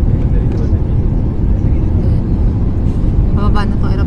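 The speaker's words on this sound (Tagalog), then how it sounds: "Bababa na itong aeroplano eh." Vistara airliner cabin during a turbulent descent on a Coimbatore to Delhi flight: a steady, loud, dense roar of engine and air noise fills the clip, with a faint voice emerging near the end.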